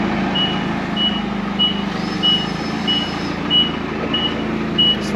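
A forklift moves through a cluttered garage floor, its steady reversing beep repeating about every half second over a low, continuous engine drone, moderately close and with no talk.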